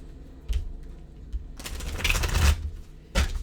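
A new tarot deck gets shuffled up close, with brief riffling bursts, a longer run of flapping cards and a final quick riffle, separated by quiet handling.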